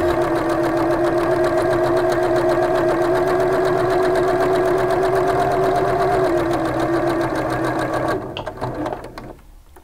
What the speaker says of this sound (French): Je commence directement et je couds tout autour.